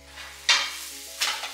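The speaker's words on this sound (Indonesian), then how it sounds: "aku gorengnya nggak terlalu lama, karena kalau terlalu lama dia nanti telurnya jadi keras, kering, kurang enak." Eggs fry in a pan on a home kitchen stove, with a soft steady sizzle and two louder bursts of spatter or stirring, close and alone without talk.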